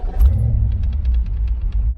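A Ford 5.0 Mustang V8 idles nearby with a deep, lumpy rumble, its low throb pulsing steadily and loudly.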